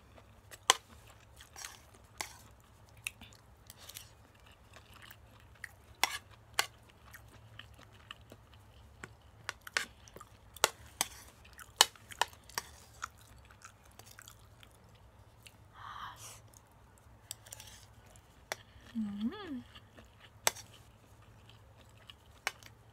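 Close, quiet chewing and crunching of food dressed in ebi mayo shrimp sauce, with scattered irregular bites over a low steady hum and no talking.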